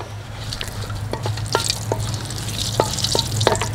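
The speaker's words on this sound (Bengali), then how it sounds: "ঢেলে দেওয়া হলো এলাচি দারচিনি" Cardamom, cinnamon and bay leaves sizzle in hot oil over a wood-fired stove, a steady bright hiss broken by short crackling pops, close and fairly soft, with no talking.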